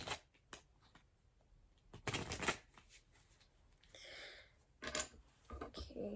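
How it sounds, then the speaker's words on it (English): A Lenormand tarot card deck being shuffled by hand, with bursts of riffling and sliding card noise separated by short pauses, close and fairly quiet. "Now I'll be shuffling the Island Time deck."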